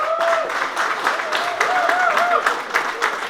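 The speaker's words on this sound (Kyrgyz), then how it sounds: "Кубаталы Барсанаев деген балалар ушуга кол чаап койгула." An audience claps steadily at a one-year anniversary gathering of the Tash-Kömür charity union, a dense, continuous patter of hands with a voice carrying over the crowd.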